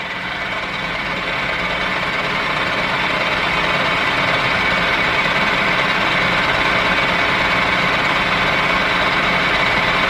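Machine spindle turning steadily at 700 RPM while working an aluminum block, a continuous close mechanical hum and whir with faint vibration, running alone without talk.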